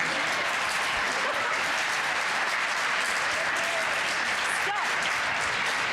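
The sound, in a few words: audience applause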